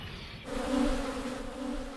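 Honeybees buzz at an apiary, a steady close droning hum with no voices.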